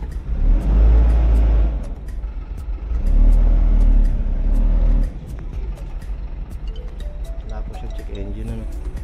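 A Hino 300 truck with low power revs its engine in two heavy, rumbling bursts, then drops to a quieter idle, with voices talking over it and sharp clicks in the background.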